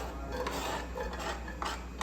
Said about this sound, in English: And then I'm gonna add some chopped onion and some chopped garlic.